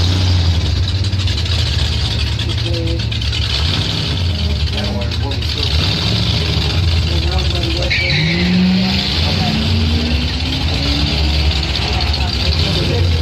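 Drag race cars run at Northern Michigan Dragway, including a 1990 Mustang, with a steady loud engine roar throughout and a rising engine note building near the end, under an announcer's voice.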